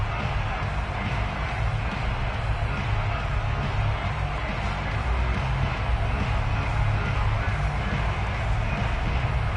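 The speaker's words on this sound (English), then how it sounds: "the crowd getting into it as we come up on a big 3rd down" A packed football stadium crowd roaring steadily before a big third down, a dense, continuous wash of cheering and noise at even volume throughout, with no clear lulls.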